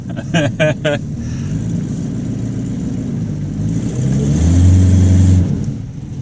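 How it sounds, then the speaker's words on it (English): A Buick Roadmaster's engine revs up and holds a rising drone as its slipping transmission struggles, heard close and loud after a few short bursts of voice at the start. "That's a slippy transmission."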